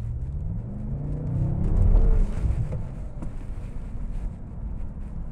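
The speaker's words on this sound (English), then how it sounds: "I'm going to give it a little gas now to see how it looks and how it feels" A 2014 BMW M5 accelerating on the road, its low engine note rising and swelling near the two-second mark, then holding steady under wind and cabin rumble.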